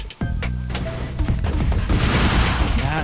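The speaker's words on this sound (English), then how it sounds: "That's a grenade launcher, hand grenade launcher." A hand grenade launcher fires in a competitive video game match: a sharp opening blast, then a loud, dense barrage of rapid explosions and gunfire.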